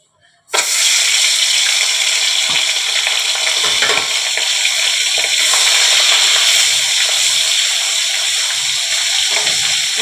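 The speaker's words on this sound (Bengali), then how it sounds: "মাছটা একটু ভেজে নিন।" Hilsa fish rubbed with turmeric and salt drops into hot oil, bursting into a loud, continuous sizzle that holds evenly, with light crackles and the occasional faint knock of the pan.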